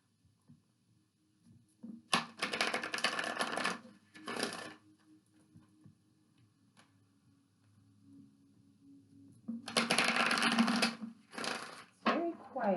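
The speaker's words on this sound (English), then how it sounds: "I'm going to give this 3 shuffles and I'm going to pull in my 3." Chakra Wisdom Oracle cards are shuffled in two bursts of crisp riffling, each lasting a couple of seconds and separated by near silence, with the second burst longer and louder.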